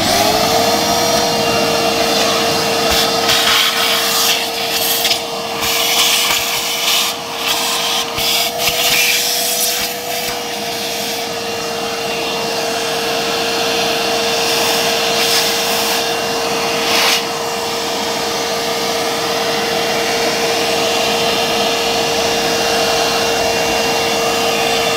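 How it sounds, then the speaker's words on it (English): Vacuum cleaner running steadily while cleaning the interior of a BMW M40i, a loud continuous whine with occasional rubbing and scraping as the nozzle moves over surfaces. "Let's turn the hoover on first."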